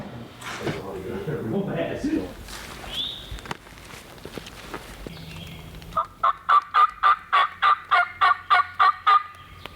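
An eastern wild turkey gobbles in a rapid, rhythmic burst of about a dozen pulses, fairly close, in the Tennessee woods, after a stretch of quiet talking and rustling.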